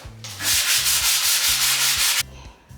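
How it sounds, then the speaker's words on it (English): Fine sandpaper rubbing across a stained wooden kitchen worktop near a sink, a close, steady hiss of abrasive strokes lasting about two seconds before stopping, with a low repeating background hum. "So I'm just going to go over it with a fine sandpaper."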